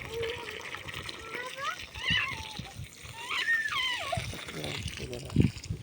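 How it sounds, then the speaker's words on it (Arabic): Guavas being washed in water give soft splashing and trickling, with one sharper splash near the end, while someone talks over the washing. "نغسل كده بقى معاكم كده الجوافيه"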